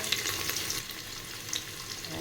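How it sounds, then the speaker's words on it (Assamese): Onions and dried red chillies frying in hot mustard oil inside a pressure cooker for an Assamese mutton curry. A steady, close sizzle and crackle runs throughout, with brief sharper spits. "তেল গৰম হৈ গ'ল, ইয়াতে পিঁয়াজ দি দিম আৰু শুকান জলকীয়া"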